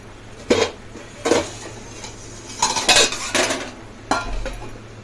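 Metal clanks as a lid is set on a cooking pan of sautéed dried shrimp with spring onions, a few sharp knocks and scrapes close by at moderate loudness, with no voices.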